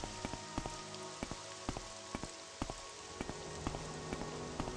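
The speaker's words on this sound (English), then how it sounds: "this storm is extremely loud and annoying" A heavy rainstorm in the video game Morrowind fills the scene with steady, dense rain hiss, while sharp droplet ticks and taps recur throughout at a constant, fairly loud level.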